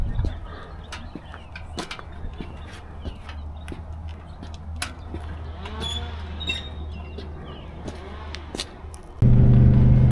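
Steady low road rumble from a vehicle on the move while towing a 1965 Oldsmobile Cutlass, a continuous drone with scattered clicks and rattles, and a louder burst of wind or engine noise in the last second.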